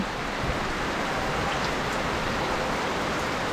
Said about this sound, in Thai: คลิปนี้ก็ดูบรรยากาศฝนตกไปก่อนนะคะ